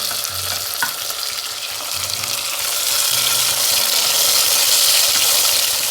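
Tomatoes fry loudly in a pan for arisi paruppu sadham, giving a continuous close sizzle that swells slightly partway through, with brief stirring scrapes underneath.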